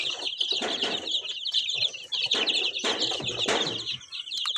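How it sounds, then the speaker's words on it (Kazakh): Week-old chicks fresh from an incubator peep in a steady, dense stream of high, bright cheeps, with soft rustling and wing flutters mixed in throughout. "мына жақта бізде кешегі инкубатордан шыққан балапандар 1 аптадай болып қалды"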